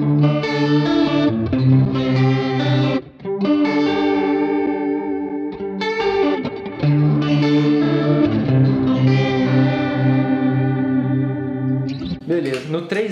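Electric guitar played through a Bias FX2 amp simulator with a clean tone, chorus and reverb, plucking sustained chords and melodic lines continuously for the full length, with a brief dip near three seconds.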